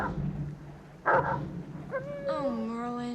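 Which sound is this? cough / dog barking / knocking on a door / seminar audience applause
dog barking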